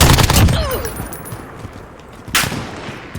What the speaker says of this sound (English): Next LMG is the M91. Really nice fire rate, control.